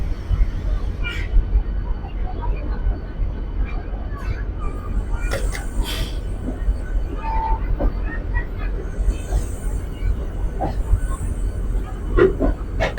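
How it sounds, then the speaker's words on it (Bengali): Howrah–Puri Dhauli Express departing, a steady low rumble of rolling stock with occasional clanks and faint squeals, heard from on board or close by, with people talking in the background. "এর মধ্যে ছেড়ে দিচ্ছে হাওড়া পুরী ধৌলি এক্সপ্রেস।"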